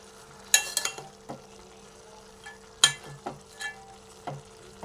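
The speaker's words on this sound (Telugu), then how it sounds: "చిక్కుడుకాయ వేసాక ఒకసారి కలుపుకుందాం." Broad beans (chikkudukaya) curry is stirred in a pan, with a few sharp spoon scrapes and clinks against the metal over a faint steady sizzle.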